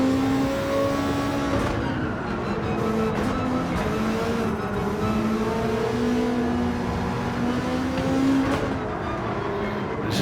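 A race car engine in Gran Turismo 7 drones steadily and loudly, its pitch gliding up and down through shifts as the car brakes and accelerates, with no talk over it.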